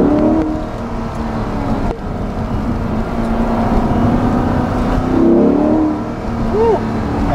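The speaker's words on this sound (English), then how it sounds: "You can hear the intake noise better." Inside a 2020 Chevrolet Corvette Stingray 1LT convertible, the engine's intake note drones steadily as the car accelerates, a loud continuous mechanical roar that swells slightly toward the end.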